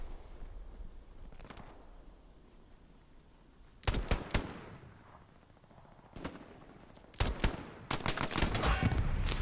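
Gunfire in the Hell Let Loose World War II shooter game: scattered bursts of shots at mid distance, some in rapid clusters with sharp cracks and rolling echoes, separated by quieter stretches.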